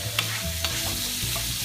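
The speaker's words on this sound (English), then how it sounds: "When you get that sizzle, you know your pot was hot enough." Sausage sizzling in a hot pot with olive oil, a steady close crackle and hiss over a short span, broken by a few scraping strokes of a wooden spoon stirring.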